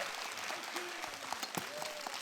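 Clapping from an audience welcoming a history professor onto a stage at a Korean lecture event, a dense roomful of applause with a few sharper nearby claps and brief whistle-like tones.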